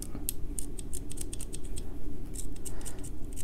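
Several crisp metallic snips of Leatherman multi-tool scissors cutting through a dirty rag, binding slightly mid-cut, close up, over a low steady background hum.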